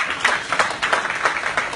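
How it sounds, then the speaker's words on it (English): An audience at a SIIMA awards press meet in Singapore breaks into a short burst of applause, dense clapping that swells and dips in waves. "Big round of applause for that."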